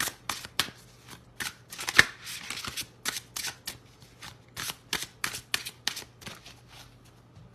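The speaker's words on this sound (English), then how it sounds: "I am shuffling the cards here with my Gil Tarot" Tarot cards from a Gil Tarot deck being shuffled by hand, with a series of crisp riffling bursts in an irregular rhythm, close and clear in a quiet room.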